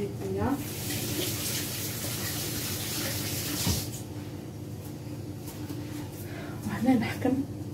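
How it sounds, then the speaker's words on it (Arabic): Hands being washed under a running tap in a home kitchen, a steady close water rush for most of the clip that eases off partway, with small splashes and a brief clatter near the end. "نغسل يديا"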